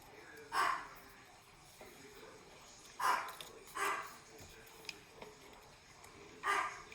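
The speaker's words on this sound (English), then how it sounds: "I disturbed the dogs." Dogs indoors in a scrapbooking room give several short, muffled barks and woofs spaced a few seconds apart at moderate distance, over quiet background noise.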